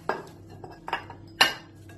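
Carrots tossed into an Afghan kazan cauldron land with three short metallic clatters against the pot, close and moderately loud in a quiet kitchen.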